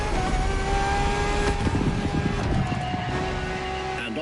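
Ferrari LaFerrari hybrid petrol-electric engine in the video game The Crew Motorfest, a steady loud close engine drone with a sustained high whine and light revving pulses, heard on its own.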